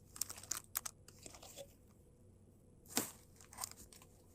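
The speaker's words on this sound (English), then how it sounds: "I'm just going to cut the ends of the ribbon." Scissors snip ribbon ends on a Halloween mesh wreath, giving quiet, close crisp cuts with soft rustling of mesh and ribbon between them, and a louder snip near the end.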